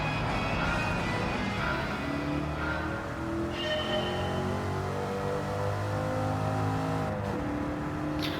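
A car engine in the racing video game Gran Turismo 7 revs and climbs through gears, a steady whining drone with rising pitch sweeps, loud and close throughout.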